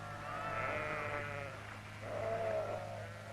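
Sheep bleating during sheep dipping, two drawn-out, wavering bleats at moderate distance over a low steady hum.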